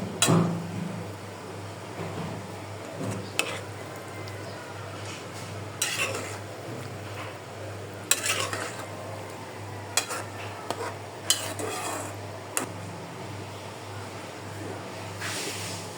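A bean, potato and radish bhaji with small fish is stirred in a pan, with intermittent scraping clinks of a utensil against metal over a steady low hum and soft cooking hiss.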